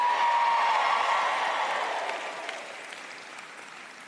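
Graduates at a University of Colorado Denver fall commencement cheer and clap loudly, the roar of the crowd strong at first and then slowly fading away.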